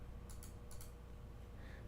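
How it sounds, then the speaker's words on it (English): Two quick pairs of crisp keyboard key clicks as keys are pressed to skip through Signalis, close and clear over a low steady hum, followed by a faint brief tone. "That way I can skip through it with the keyboard."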